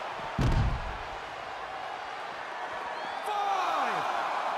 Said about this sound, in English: he slammed his face right into the barricade